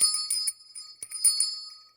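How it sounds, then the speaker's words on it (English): A bell in a model-building workshop is rung twice, each ring a bright, clear metallic tone with a few quick strikes that decay into a fading sustain, close and fairly loud with no talking. "so I'll ring the bell twice"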